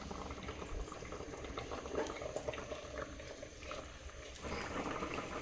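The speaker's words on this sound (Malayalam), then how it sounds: "മീൻ അത്യാവശ്യം നന്നായി തിളക്കുന്നുണ്ട്." Fish curry simmering in a pot, with soft bubbling and gentle liquid gurgles running steadily at a low level, no voices over it.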